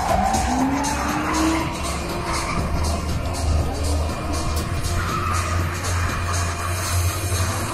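Drift car, a street-registered road car, skidding with tire squeal on a drift competition course; a steady engine roar and squealing tires run continuously at high level, with faint crowd or commentary murmur beneath.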